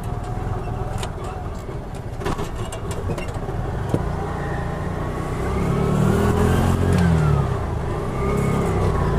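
A 2020 Piaggio Ape City Fi three-wheeler's small engine hums steadily close by, its pitch climbing and swelling louder about two-thirds through as it revs between gear shifts.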